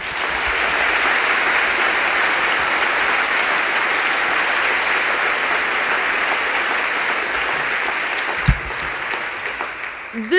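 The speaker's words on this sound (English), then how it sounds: "Let's give a big round of applause to Bill Burke-White" A large audience at a university leaders' forum bursts into sustained applause, a loud continuous wash of clapping that holds for about ten seconds before thinning slightly at the end.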